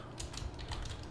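Typing on a computer keyboard: a quick, faint run of soft key clicks at close range, with no voices.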